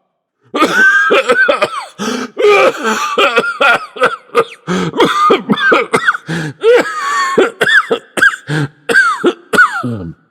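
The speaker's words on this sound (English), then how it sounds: "How long have you had that cough?" A long fit of repeated hacking coughs close up, with strained throat-clearing sounds in an uneven rhythm that barely pauses.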